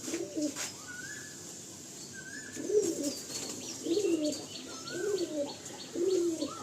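A pair of Andhra pigeons in a loft coo close by, repeated soft throaty calls roughly every second with brief chirpy notes in between, over a quiet steady background hum.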